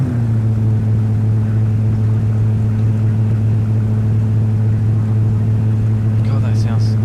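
Steady, loud low engine drone from a decent car driven around a track in a sim racing game, holding a constant pitch with a faint broadband rumble on top and a brief higher chirp near the end, with a voice talking underneath.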